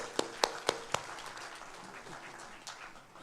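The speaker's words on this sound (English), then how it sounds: "let's have a big applause for all the panelists" Conference audience clapping for a panel at an energy storage event: four distinct, fairly close claps come first, then a faint, scattered smattering of applause trails off in a quiet hall.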